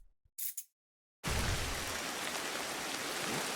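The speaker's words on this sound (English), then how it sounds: "The rain is real loud." In the video game Ancestors: The Humankind Odyssey, after a brief quiet moment with a couple of soft clicks, heavy rain suddenly starts and pours steadily, a loud, dense hiss that fills the rest.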